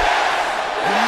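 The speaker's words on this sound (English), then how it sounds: "Bane is listening in on the roar of the crowd" A wrestling crowd roars in a dense, steady wash of cheering and shouting from a packed arena, loud and continuous throughout.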